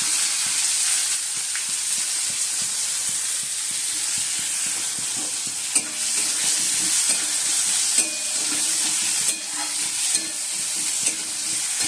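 Onions sizzle and fry in a pan at home on a stormy, rainy day, with a steady bright hiss throughout, light stirring scrapes and occasional clinks, and no talking.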